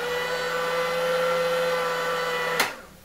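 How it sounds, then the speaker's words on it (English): A small electric nail dryer used during an at-home pedicure gives a steady, even whirring hum with a constant tone, heard close and alone, then cut off abruptly near the end. "If you're in a real rush, you can use the nail dryer."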